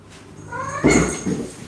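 A cat lets out a single drawn-out, tonal meow up close, rising then breaking into a louder wavering cry before trailing off.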